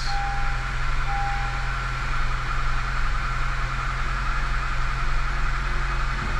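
A 2012-2014 Honda CR-V engine idles steadily up close, a constant low hum with a faint interior chime, no other sounds.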